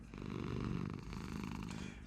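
Steady purr-like snoring from an animated cat in the Hogwarts Mystery game drones on without pause, close and even, with no voices.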